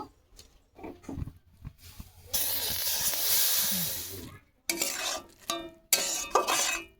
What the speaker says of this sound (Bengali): এখন কড়ার মধ্যে এটা আমি ঢেলে দেব